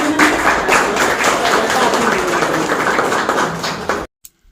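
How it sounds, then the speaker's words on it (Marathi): A crowd of journalists claps loudly and continuously for about four seconds at a press gathering in Solapur, then the applause cuts off abruptly. "आपण सर्व पत्रकार बांधवांनी जोरदार टाळ्या वाजवून"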